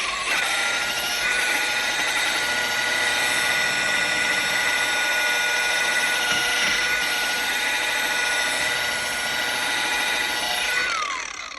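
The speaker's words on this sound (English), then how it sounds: "I'm using a rotary polisher to get through this." A rotary polisher buffs a car spoiler with a loud, continuous high-pitched whine and a steady motor drone, holding an even pitch for the whole stretch with no talking.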